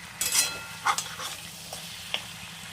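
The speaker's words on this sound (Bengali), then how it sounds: "এখন এই সব মাথা দিয়ে এখন মাছের একটু নাড়াচাড়া করব" Fish heads being stirred in a frying pan produce a few brief scraping strokes and bursts of sizzle over a faint background hiss, the scrapes coming in short, uneven pulses.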